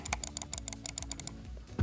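A Logitech MX Master 3 mouse gives a rapid series of about a dozen crisp, light button clicks at close range, evenly spaced and quiet, with no talking.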